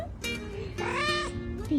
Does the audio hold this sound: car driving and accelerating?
no